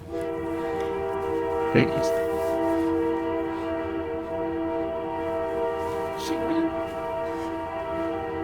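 A train sounds its loud, sustained multi-tone horn as it passes nearby, the chord holding steady throughout with brief clanks and knocks mixed in.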